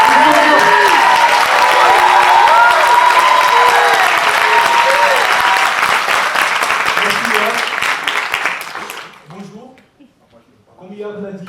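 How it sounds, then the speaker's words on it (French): An audience at a Spread 2020 talk claps loudly and steadily for several seconds, with voices over it. The applause fades out near the end, leaving a brief quiet gap before speech. "Je vous propose d'applaudir très fort Ramzi pour son temps."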